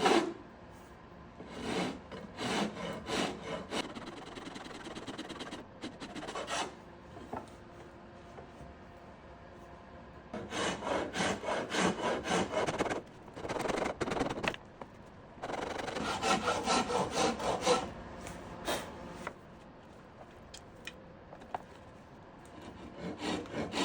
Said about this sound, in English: use your rasp to skinny this thing up a bit and make it feel a little better in your hand